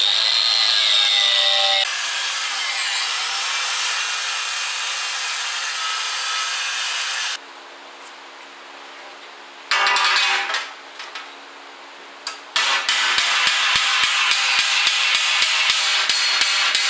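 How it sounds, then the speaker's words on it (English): An angle grinder strips paint off an aircraft propeller outdoors, making a loud, harsh grinding roar that stops and restarts in several separate passes, ending in a rapid rhythmic rattling stretch. "Next time, leave it dry, go straight to grinding it off. All right, grinder Phil, let's go back to the grinder."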